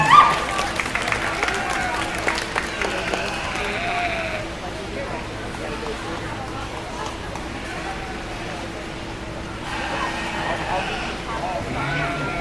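Audience applause at a 4-H/FFA sheep showmanship event, clapping steady and moderate through most of the clip, with sheep bleating nearby and an announcer's voice early on.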